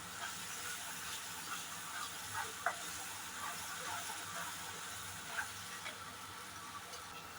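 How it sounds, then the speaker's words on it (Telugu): Spices and garam masala frying in hot oil in a pan for an Aloo Phool Makhna curry, giving a steady close sizzle and hiss with a few light stirring clinks. "దీన్ని నూనె ఇచ్చేంత వరకు బాగా ఫ్రై చేసుకోవాలి."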